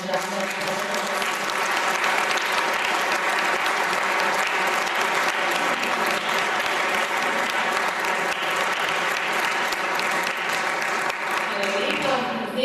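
Audience at the 10th concert of Posavje music schools breaks into sustained, even applause that stays loud and dense throughout, easing off only at the very end, with faint voices beneath.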